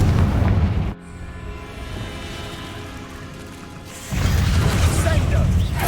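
A Confringo fire spell explodes in Hogwarts Legacy with a heavy, rumbling boom, followed by a ringing, resonant tail, and then a second forceful burst of rumbling blasts.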